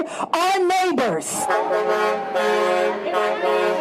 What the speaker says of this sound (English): Trucks moving in and out of the busy port of Newark honked their support.